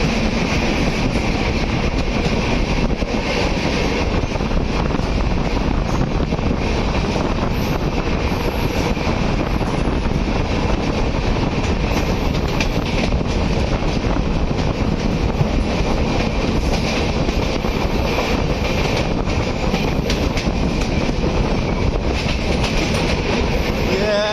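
The Sampoorn Kranti Express rolls past Sahibabad station, a loud continuous roar of wheels and carriages with a steady clatter and wind buffeting the microphone throughout, no talking.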